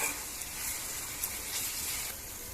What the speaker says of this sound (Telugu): అల్లం వెల్లుల్లి పేస్ట్ వేగిపోయిందండి